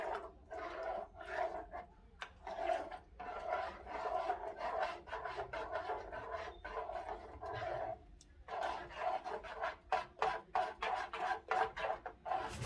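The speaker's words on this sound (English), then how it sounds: "Stir it up." A spoon stirs brisket sauce in a pot, producing a quiet, continuous rhythmic scraping and swishing that runs throughout with brief pauses, close by and low in level.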